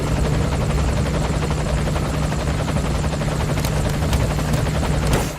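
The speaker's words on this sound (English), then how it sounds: "take a look outside of the helicopter." Inside a helicopter in the video game Metal Gear Solid V, rotor chop and engine whine form a loud, steady drone with a rapid thudding pulse throughout.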